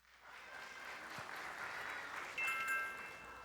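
An audience at a high school debate competition claps steadily for a competing team, a soft, even wash of applause rising slightly and holding for a few seconds.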